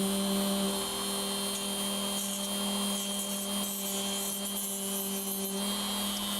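A power tool cuts through a fiberglass circuit board, giving a steady, continuous high-pitched whine with a tonal buzz underneath that holds evenly from start to finish, with no talking.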